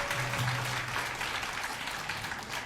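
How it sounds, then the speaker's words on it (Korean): Applause from a symposium audience welcoming a speaker, a dense, continuous roomful of clapping that stays fairly even throughout, with a faint hum underneath. "박수로 먼저 맞이하겠습니다."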